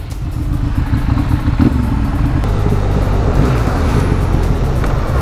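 A Benelli Leoncino 500 motorcycle rumbles with a loud, steady low exhaust note and a slight throttle blip, heard close with no talk.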